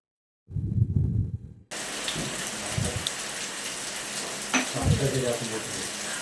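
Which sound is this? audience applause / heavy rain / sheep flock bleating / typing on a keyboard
heavy rain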